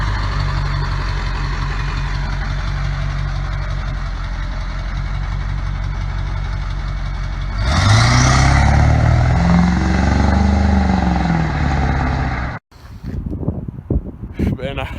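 A 7.3 Powerstroke diesel pickup engine idles with a steady rumble, then revs up loudly for several seconds, rolling coal, before cutting off, followed by scattered handling noises.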